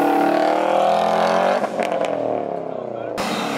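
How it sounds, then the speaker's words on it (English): A Subaru STI with a newly installed intake revs hard and launches, its loud engine note climbing and wavering before cutting out sharply near the end, with voices talking over it. "let's do a WRX versus STI launch"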